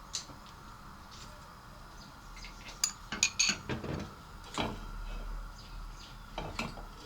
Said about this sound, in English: Put on the gas, the pan.